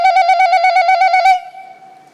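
A telephone rings with a rapid warbling electronic trill, one loud burst lasting just over a second, then a fainter steady tone lingers and fades.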